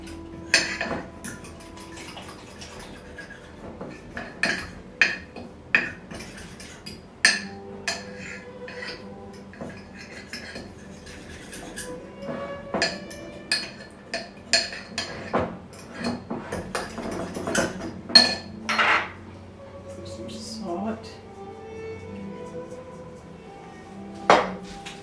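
A spoon stirs milk and flour into hamburger sausage cabbage soup in a pot, giving repeated clinks and scrapes against the metal that come in irregular bursts, close and fairly loud, with no talking.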